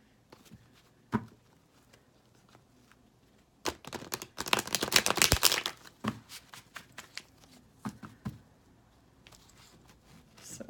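Tarot cards being shuffled by hand, close and fairly soft, with scattered riffles and taps building to a dense burst of rapid shuffling in the middle before trailing off into occasional light card sounds.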